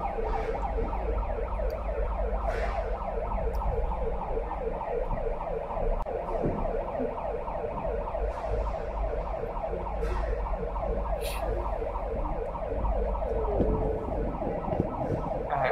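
A loud, continuous warbling siren at an Amazon warehouse loading lane wails on without a break, steady and close, with a few faint clanks and knocks in the background.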